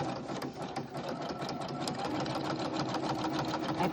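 A sewing machine stitches steadily around a journaling card made from an old children's book page, a continuous fast rattling hum with dense needle clicks, close and unbroken, with no talking.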